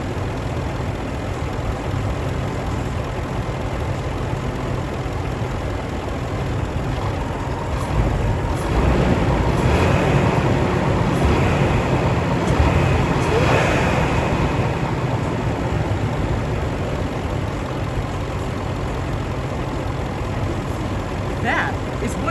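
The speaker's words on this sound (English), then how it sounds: "That is what creates that unique supercharger sound underneath this engine right there." A 2016 Range Rover Autobiography with a supercharged engine runs steadily close by, a constant dense mechanical drone with a slight swell midway and no sharp revs.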